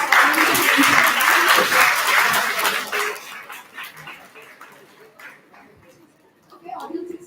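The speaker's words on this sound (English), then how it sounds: "Everyone needs a round of applause for everything." An audience at a senior quiz competition applauds, loud at first and then thinning out into scattered claps and murmurs, with talk and a brief rise of noise near the end.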